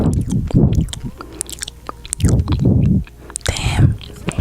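Close, crunchy chewing of food in bursts of bites and squishy mouth noises, intimate and near the microphone, with soft breathy sounds between chews.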